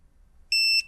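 A wireless phone charger coil gives a short two-tone electronic beep as a phone is set on it and connects, clear and close against quiet.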